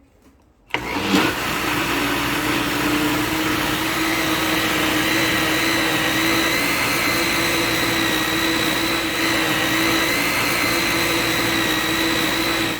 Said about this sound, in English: Now we'll put the yogurt. Now we will mix it again.